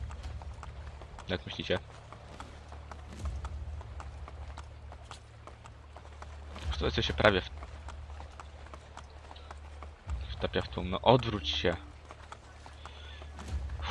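Horse hooves clip-clop at a walking pace in Assassin's Creed Brotherhood, a steady rhythmic clatter underneath someone talking, with occasional louder passages mixed in.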